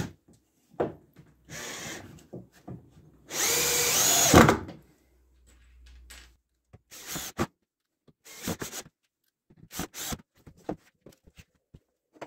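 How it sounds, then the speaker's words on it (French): A power drill drives screws into wood in a workshop, giving several short whirring bursts and one longer run with pauses between them, close and alone. "Et je vais visser l'autre côté."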